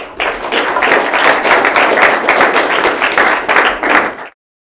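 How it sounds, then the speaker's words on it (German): Loud, close applause from an audience, sustained for about four seconds with a brief dip before ending abruptly. "Applaus"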